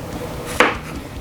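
A single crisp knife chop through cucumber on a cutting board, sharp and close, standing alone against a quiet kitchen background.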